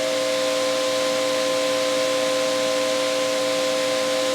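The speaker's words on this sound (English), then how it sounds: "here's with the spray and the unit standing right next to it." Pressure washer for car washing spraying with the unit standing right beside it, a loud continuous hiss with a steady motor hum and whine underneath, unchanging throughout.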